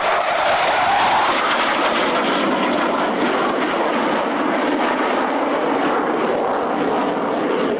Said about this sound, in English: Airborne with a short tactical takeoff.